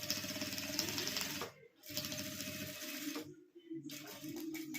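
A household sewing machine stitches fabric from an old shirt in fast, rhythmic mechanical bursts, pausing briefly twice before running on again, close and steady.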